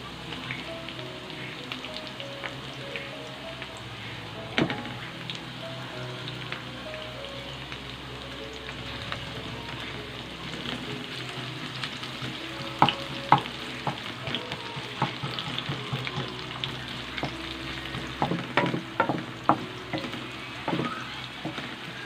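Garlic and onion fry in a pan for veg hakka noodles, a steady close sizzle running throughout with scraping stirs and clinks that grow louder and more frequent toward the end.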